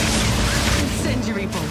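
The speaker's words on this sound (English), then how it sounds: "Permafrost bolts." Permafrost crossbow bolts fire in the Path of Exile 2 video game: a dense, continuous barrage of shots and impacts packed into under two seconds, with a voice speaking over the combat.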